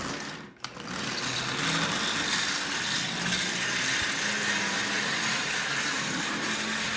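Marx 400 toy train with an oxide-covered double reduction motor running while pulling its tender, a steady, faint whirring buzz that continues throughout after a brief click near the start.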